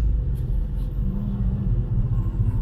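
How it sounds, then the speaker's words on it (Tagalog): Heavy afternoon road traffic at Quezon Memorial Circle in Metro Manila produces a steady low engine rumble from nearby cars and buses, continuous and fairly loud with no voices. "Pakita ko lang sa inyo ang traffic ng Quezon Memorial Circle pag mga ganito"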